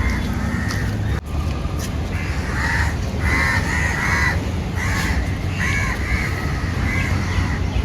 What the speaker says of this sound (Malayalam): എന്തോ വേറൊരു കാക്ക വന്നു.